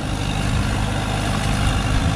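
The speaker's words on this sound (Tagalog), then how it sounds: "traktora." A tractor engine working a rice field, a loud, steady low diesel drone close by with no break and no voices.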